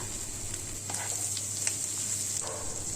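Scrambled egg, fried prawns and carrot being stir-fried for fried rice, a soft, continuous sizzle with occasional light scraping as the mixture is tossed.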